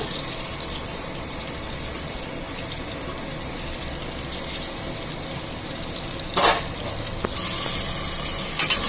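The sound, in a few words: onion sautéing with ginger garlic paste for veg pulao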